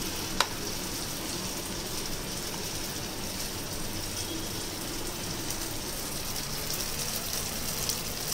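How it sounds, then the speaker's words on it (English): Banana fritters (Kerala pazhampori) in batter fry in oil, a continuous soft even sizzle with one brief click near the start and no voices. "So like this, we will fry the banana."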